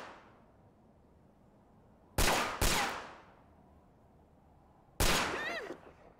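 Loud gunshots from the video game Yakuza 4: two sharp bangs in quick succession, then a third after a pause, each with a long ringing decay.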